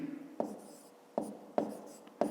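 A pen writes numbers by hand on paper during a fifth-grade maths exercise, giving four short, quiet scratching strokes spaced unevenly apart with no talk over them.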